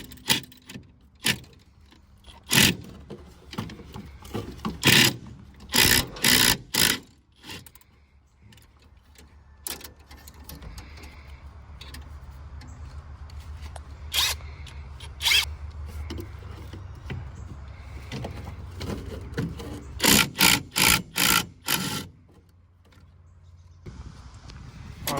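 Four bolts on the brake master cylinder of a van that sat since 1986 are loosened with a ratchet, giving close, repeated bursts of rapid clicking separated by quiet pauses and faint handling noise.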